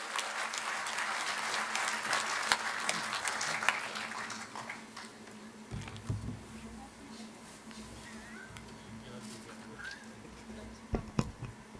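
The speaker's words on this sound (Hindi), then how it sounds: "जोरदार तालियों से उनका इस्तकबाल किया जाए।" Loud applause from a mushaira audience in Ludhiana welcoming poet Rashmi Saba, dense clapping that swells and then thins into scattered claps and crowd murmur.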